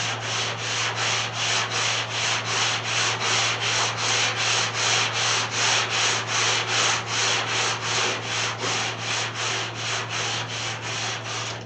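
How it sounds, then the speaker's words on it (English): A long sanding block fitted with 80 grit paper strokes back and forth over the body of a 1991 Chevrolet C1500 pickup, making a steady rhythmic rasp of evenly spaced passes with a low hum underneath and no talk. "I'm just going to take my sanding block here. I got a long one with some 80 grit on it."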